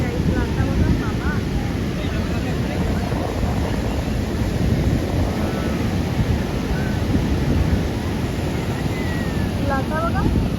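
Sea waves roar during a boat ride, almost buried under constant heavy wind buffeting the microphone for the whole stretch, with faint voices in the background.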